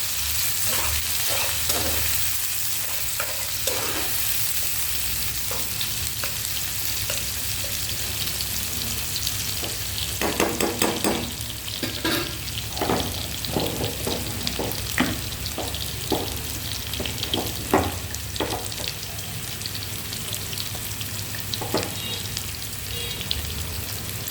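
Whole garlic cloves fry in hot oil in a pan, a steady close sizzle crackling throughout with scattered sharper pops and spits, busier in the second half, with no voices.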